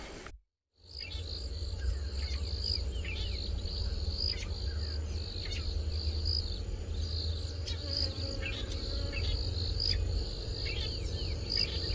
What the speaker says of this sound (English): let's listen to the last of the Dawn Chorus.